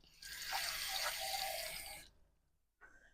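Cold water runs from a kitchen tap into a container for cooking asparagus, a steady close pour lasting about two seconds before cutting off, followed by a brief faint clatter.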